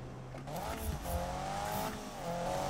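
A car engine revving and accelerating in a Need for Speed street race, a steady loud drone with rising pitch sweeps that climb and shift across the clip.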